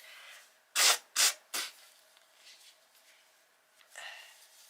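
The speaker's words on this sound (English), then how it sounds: "I gotta blow my nose, I'm sorry." Three short, loud blasts of breathy noise in quick succession, like a nose being blown hard, followed by quieter rustling and a softer final puff.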